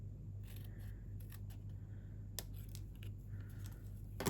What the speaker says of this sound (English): So I'm just going to cut up the center and then up both sides.